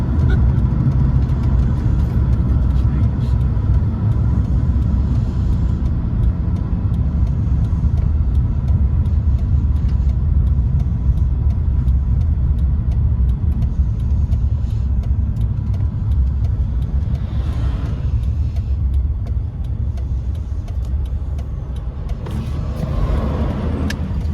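Steady, loud road rumble from cars passing continuously on a highway during a road trip through Wyoming, Montana and South Dakota, with a swell of a nearer vehicle late on and no talk.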